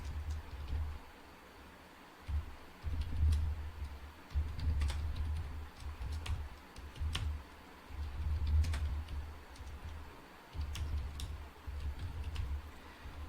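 Keys clatter on a computer keyboard as code is typed, in quick irregular bursts of clicks separated by short pauses, close and fairly quiet over a low steady hum.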